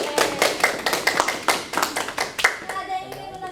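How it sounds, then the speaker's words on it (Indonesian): Classroom clapping for a student who has just answered: a short run of quick, sharp hand claps from a small group, close and fairly even, ending abruptly with a little background noise after. "Terima kasih Elizabeth, tepuk tangan."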